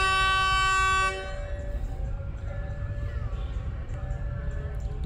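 The Jenggala train from Mojokerto pulls in on track 2 of a station. Its horn sounds loud and steady at the start, then cuts off and leaves a low, continuous rumble of rolling wheels.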